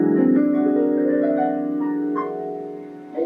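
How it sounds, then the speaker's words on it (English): A piano plays a whole tone scale, notes climbing stepwise over a sustained ringing low chord, near and moderately loud, ending with a soft rise at the close. "And we have a whole tone scale, which Debussy and some of the Impressionists use."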